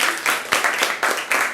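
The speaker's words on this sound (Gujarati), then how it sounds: "તાળી પાડો બધાના માટે" A group of listeners claps for children after an alphabet recitation in Navsari, Gujarat, in a quick run of close, loud, slightly uneven bursts, with no talking.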